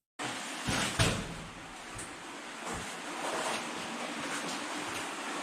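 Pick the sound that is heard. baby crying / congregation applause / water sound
water sound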